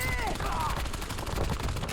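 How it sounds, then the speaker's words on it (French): Rapid gunfire in an online video game shooter, a dense burst of shots rattling continuously over two seconds, fairly loud and close, with game sounds and faint voices mixed underneath. "Je subis des tirs."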